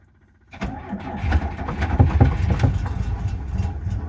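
A car engine on petrol cranks and catches after a brief quiet moment, then settles into a rough, rumbling idle close by.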